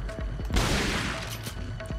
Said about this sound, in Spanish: Me gusta esta escopeta, aunque parece que hace como menos daño.